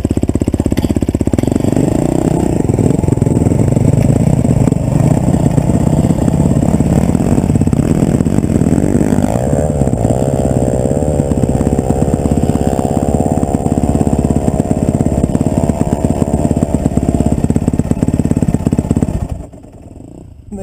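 Motorcycles ride up a dry wash on a hillside trail, their engines droning loud and steady nearby with rising revs and clattering, then cutting off abruptly near the end.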